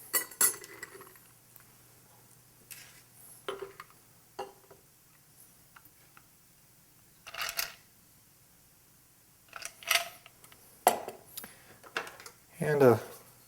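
Quiet clinks and taps of a bar spoon and ice against glass while a Japanese cocktail is stirred, sparse and intermittent with a few louder clatters near the end.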